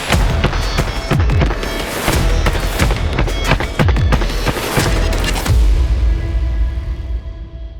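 A CMMG Dissent 9mm pistol-caliber carbine fires rapidly outdoors. A loud, continuous string of sharp shots lasts about five seconds and then fades into a rumbling echo.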